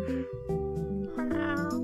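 Pumpkin, a pet cat kept with several other cats, meows in a close, clear series of drawn-out tonal cries that run into each other across the short stretch, with no talking.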